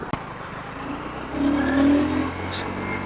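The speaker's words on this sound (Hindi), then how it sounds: "So this is on to second gear right now." A KTM Duke 160 motorcycle rides through the city in second gear, its engine note rising and swelling up close under someone talking.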